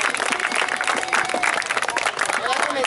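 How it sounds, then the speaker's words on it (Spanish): Spectators applaud all the teams after a youth football tournament match, brisk scattered clapping with crowd voices and chatter mixed in throughout. "quiero que le den un aplauso a todos"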